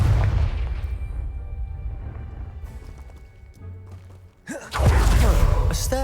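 A Confringo blasting spell in Hogwarts Legacy, a deep rumbling boom that fades into a low hum, followed by a sharp, loud blast and crumbling debris near the end.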